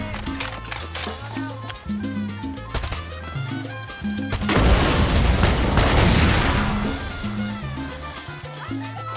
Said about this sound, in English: How it's called, a rocket launcher on our back.